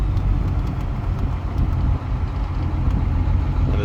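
A tuned car engine pulls hard under acceleration, a loud, dense, continuous roar heard up close with no break for nearly four seconds.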